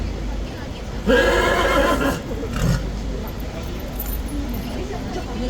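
A horse of the King's Guard lets out a loud, drawn-out whinny nearby, followed by a shorter snort, with steady background noise.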